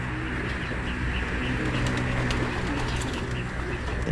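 Hungry pigeons coo steadily and overlap in a busy chorus, with occasional chirps and faint wing flutters over a constant low background; no one speaks.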